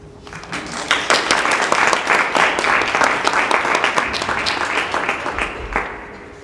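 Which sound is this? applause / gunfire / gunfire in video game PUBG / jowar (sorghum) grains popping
applause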